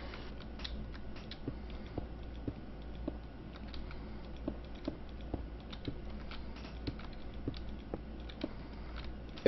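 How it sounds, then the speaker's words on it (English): Soft, rapid clicking of a computer keyboard being typed on, steady irregular keystrokes at a close but quiet level with a faint background hum. "I'll stop typing the macro I was going to be setting up for you."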